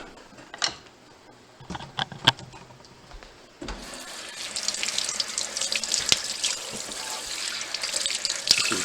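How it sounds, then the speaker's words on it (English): Tap water runs into a kitchen sink, rinsing vegetables under a steady hiss that starts abruptly after a few clicks and light handling noises. "let's go ahead and rinse those off"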